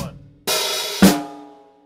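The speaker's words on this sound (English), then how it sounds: "So here we've got the hi-hat opening on the end of beat one." Acoustic drum kit playing three isolated hits: a low bass drum thump, then an open hi-hat wash, then a snare crack where the hat closes, with ringing decay and no talking.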